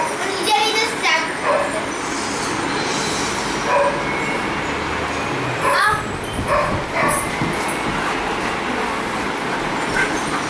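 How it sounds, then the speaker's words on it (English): Several dogs bark and yip at a kennel in Kolkata, sharp repeated barks spread across the clip with some whimpering, while people talk loudly nearby. "Dog, dog, dog"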